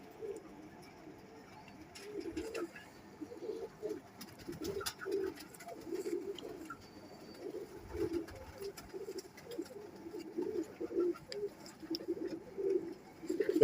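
Pigeons coo repeatedly in a loft or coop, soft rounded calls overlapping in an irregular rhythm, fairly close, with light shuffling and faint background noise.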